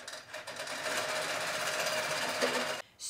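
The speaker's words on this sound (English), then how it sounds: "I'm going to stitch like this row up here first, and then I'll do this row." A quilting machine runs in a steady, loud, continuous mechanical whir while stitching a row of triangles in a custom quilting pattern, then stops abruptly near the end.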